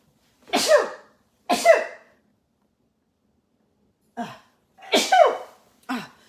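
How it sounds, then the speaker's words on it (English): Five separate sneezes burst out close by, two in quick succession, a pause, then three more, each sharp and loud, during a live sewing demonstration. "I'm going to sneeze in a minute."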